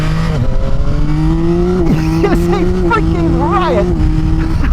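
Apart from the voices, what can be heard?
Yamaha XSR 900 motorcycle CP3 engine accelerating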